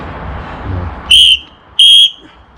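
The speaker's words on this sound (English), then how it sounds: "I can blow twice on the whistle and make it distinctive" Two short, loud, shrill whistle blasts at a shooting club, evenly spaced about half a second apart, each clean and piercing against a quiet backdrop.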